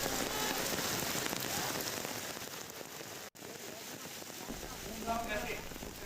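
Heavy monsoon rain pours down in Mumbai, a dense, steady roar of water that holds loud and unbroken from start to finish.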